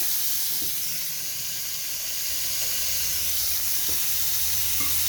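Tomatoes hit a hot pan with tofu and snow peas, producing a continuous broad hiss of sizzling and steam, with a few faint taps of a utensil.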